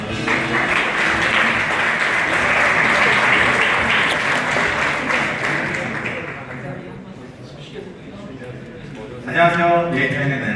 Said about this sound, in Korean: DNA를 박수로 맞아주시죠.